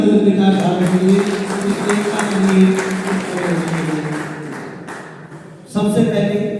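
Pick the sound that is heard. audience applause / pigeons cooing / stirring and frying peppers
audience applause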